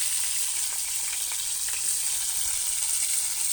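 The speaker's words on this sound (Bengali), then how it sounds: "কড়াই তেলটা গরম হয়ে গেছে আমি এক এক করে ফুলকপিটা দিয়ে কষে নেব" Cauliflower frying in hot oil in a wok, a loud, continuous close sizzle with steady crackling throughout.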